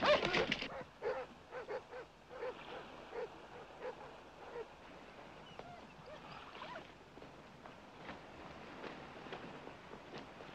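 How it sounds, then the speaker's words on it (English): Several dogs bark and yip some distance away, repeated irregular barks rising over a faint outdoor background, with no voice in front of them. "The other dogs are barking down there"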